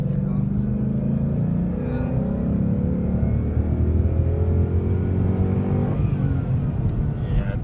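A 2015 Ford Mustang GT accelerates in third gear with a steady, loud engine drone heard from inside the cabin, rising slightly in pitch, while occupants talk over it.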